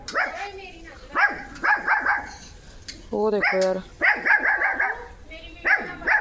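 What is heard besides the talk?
dog barking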